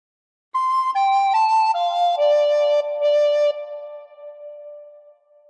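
On a recorder, a phrase of What Shall We Do With the Drunken Sailor steps downward through several clean, tongued notes. The last note is held and then fades away. The playing is solo and close, with no voices.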